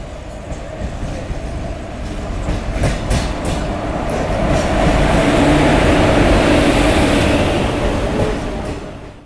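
A crowded train pulls into a station platform, its heavy rumble and rhythmic wheel clatter growing louder and closer before easing slightly as it slows, with no talk over it.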